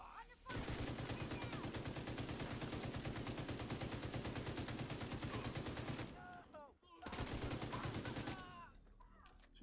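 Rapid, sustained automatic gunfire from The Division 2 video game rattles loud and continuous, breaks off briefly with a few lighter clicks and shots, then resumes in another dense burst.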